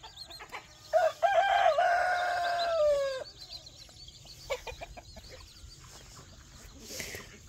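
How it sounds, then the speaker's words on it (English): A rooster on a homestead crows loudly once, a long drawn-out call up close, followed by scattered clucks and softer fowl sounds around the yard. "Get out of there, roosters!"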